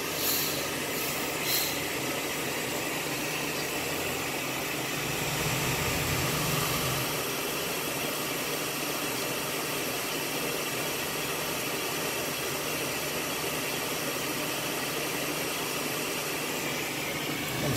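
A roach-infested Nordyne 5 ton gas package unit lights and keeps running, giving a steady, broad hissing roar with a low engine-like drone that holds evenly throughout, with a slight swell early on.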